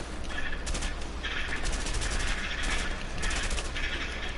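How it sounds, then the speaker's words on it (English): Heavy gunfire in A Way Out crackles in dense, overlapping bursts throughout, loud and sustained like an ongoing firefight, with no voices over it. "I'm under heavy fire."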